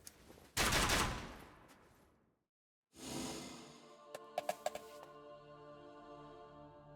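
Battle rifle fire in the video game Elden Ring Nightreign during a fight with Everdark Fulghor: a loud sustained burst of shots, a brief pause, then another long volley with a few sharper cracks, with no talking.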